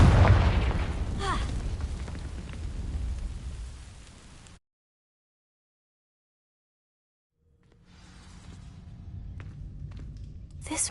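A Confringo fire spell ignites dry vines in Hogwarts Legacy with a loud, rumbling burst of crackling flame. It cuts to silence for a few seconds, then a softer roar and crackle returns.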